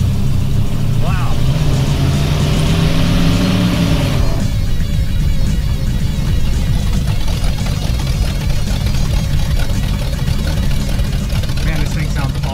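A loud Ramcharger 383 truck engine with open headers rumbles with a rough, unmuffled growl, revving briefly then settling into a steady, throaty idle.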